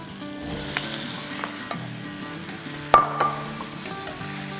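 Boiled potato pieces land in a hot pan and sizzle steadily, with a soft clatter of stirring and one sharper utensil knock near the end, close and continuous without talk.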